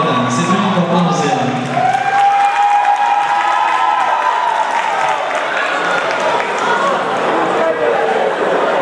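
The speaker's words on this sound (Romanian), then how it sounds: "Se primim cu aplauze." Audience at a Dragobete show in Petrila welcoming the Wow Crew Senior and Junior dance groups with loud, sustained applause and cheering, a voice briefly heard over it at the start.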